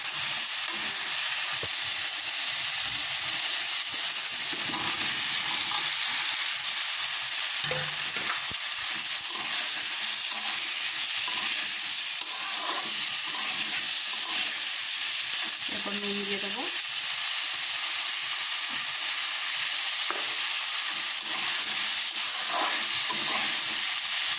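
Potatoes and spices simmer in water in a kadai, a long, unbroken bubbling hiss with faint scrapes and knocks scattered throughout, and no voices.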